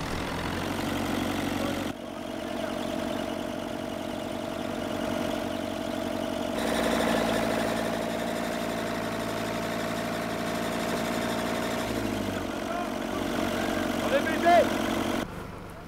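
Tractor engine running on the half-hour drive out to a clam field at low tide: a steady mid-pitched idle and hum with rumbling vibration, changing in tone partway through as the load shifts, while people speak over it.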